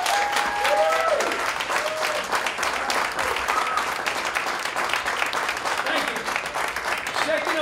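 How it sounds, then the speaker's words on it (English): Steady applause from an event audience fills the room, a dense continuous patter of many hands clapping with a few faint voices and whoops scattered through it. "let's give it up a nice round of applause"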